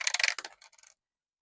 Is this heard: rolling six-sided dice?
yes